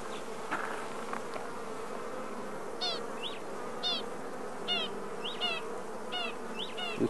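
Honey bees hum steadily around an open Langstroth hive during an inspection in Africa, a close, continuous buzz with a few faint bird chirps rising above it.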